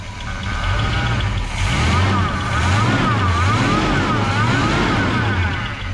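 A 1965 Ford Ranchero 4x4 engine with a Quadrajet carburetor idles steadily with a low, loping rumble that rises and falls throughout, fairly close and loud, with no other sounds standing out.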